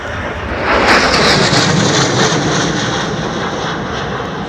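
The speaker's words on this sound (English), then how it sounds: "Joint Strike Fighter." An F-35 Joint Strike Fighter jet passing at an airshow, a loud continuous roaring rush that swells within the first second and holds steady, heard alone without talk.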